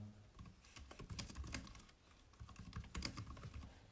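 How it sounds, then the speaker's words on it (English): Quick typing on a computer keyboard, a rapid irregular patter of key clicks, close but fairly quiet. "For example, you can type stuff."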